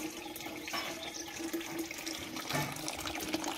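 Hot water from a heater runs steadily out of a tap, filling for a child's bath; a continuous, close splashing hiss with no pauses.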